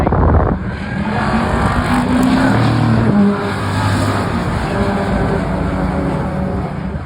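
Mustang and BMW race cars roar at Druids on a racing circuit, loud engine noise sustained throughout with a shifting pitch as they brake and accelerate through the corner, no voices over it.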